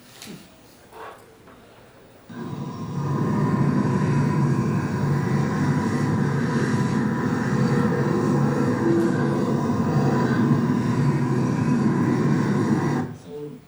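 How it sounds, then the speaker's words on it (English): Pitched-down, slowed wind recordings form a low, steady rushing drone of spaceship ambience for the game Void Crew, swelling in after a quiet start and holding evenly before stopping abruptly. "I used also some wind recordings, and I pitched it down and slowed it down"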